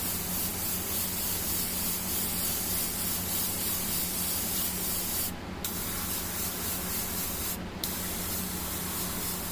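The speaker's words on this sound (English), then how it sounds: "So just to show you guys how nice this chrome coats through the airbrush" Airbrush spraying chrome metallic paint at a hobby desk while painting a tabletop miniature, a steady close airy hiss holding for the whole stretch with a faint background hum and two short sharp bursts.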